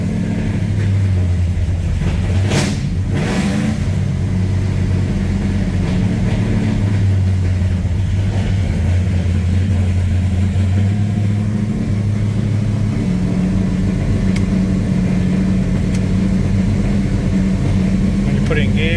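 Engine idling and revving with a steady low drone throughout, close and loud, with a couple of brief sharper flares of revving early on and a shifting pitch that dips as if close to stalling.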